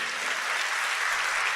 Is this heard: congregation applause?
yes